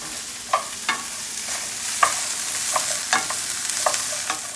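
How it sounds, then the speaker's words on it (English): Broccoli and cauliflower stir frying in a hot pan, with a steady sizzle broken by sharp scraping clicks from stirring at an irregular, unhurried pace; no voices. "while you're stir frying broccoli"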